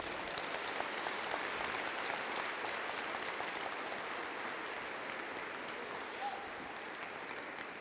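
A church congregation claps in steady, dense applause that holds evenly at a moderate level for several seconds, with a faint voice underneath.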